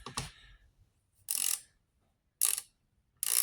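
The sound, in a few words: GearWrench ratchet wrench clicking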